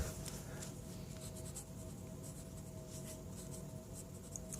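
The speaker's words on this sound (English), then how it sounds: "Let's go ahead and do a writing test with the MUJI pocket pencil." A MUJI aluminum 0.5 mm pocket pencil writing on an Office Depot paper pad, a steady close scratching of graphite with short stroke bursts throughout, no talking.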